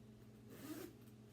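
A quick zipper pull on a double-zip compartment of a Coach Surrey Carryall bag, a faint brief rasp close by against a steady low hum.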